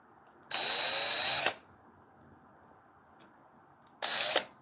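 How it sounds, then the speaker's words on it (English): Power drill backing small screws out of a chainsaw muffler housing, two close high-pitched whirring bursts, one about a second long and a shorter one after a pause. "So I actually have to take the small screws out of the front because this was an extra muffler I had."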